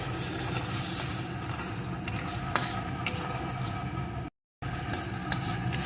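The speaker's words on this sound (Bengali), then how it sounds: "এখন এই মশলাটাকে একটু নাড়িয়ে নেব" Spice paste with salt and turmeric sizzles in a pan for a vegetarian drumstick dish, with close spatula scrapes and clinks over a steady low crackle and a brief dropout near the end.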